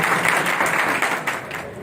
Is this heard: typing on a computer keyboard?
no